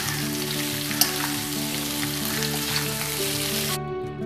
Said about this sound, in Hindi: इन आलूओं को हम करीब 5 मिनट तक मीडियम हीट पर तेल में भूनेंगे